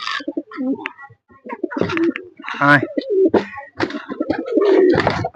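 Pigeons coo repeatedly in soft, throaty bursts while being fed mustard seeds, heard close by with a voice talking over much of it.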